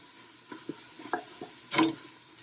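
Kenyan red kidney beans (maharagwe) stirred in a pot, a few soft, wet scraping and squishing strokes at close range, the last one the loudest.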